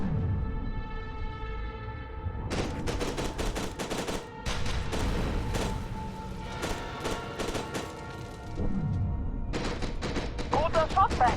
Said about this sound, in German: Guter Schuss, Beckett.